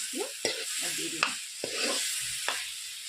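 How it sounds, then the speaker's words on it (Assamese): Potatoes fry in a pan, a steady sizzle running under sharp scraping stirs from a spatula that land every second or so, close and moderately loud with no talking. "এইখিনি অলপ সময় মই ভাজি ল'ম"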